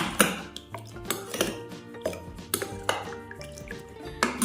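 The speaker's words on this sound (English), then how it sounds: "Now we are going to mix everything nicely like this" Spoon stirring baking soda into slime activator in a bowl, a steady run of close clinks and scrapes against the bowl with no talk.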